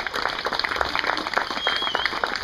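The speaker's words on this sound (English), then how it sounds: "So please give them another round of applause." Wedding guests applaud during the groom's speech, a steady, dense round of clapping from a crowd lasting the whole stretch, fairly close and without talking over it.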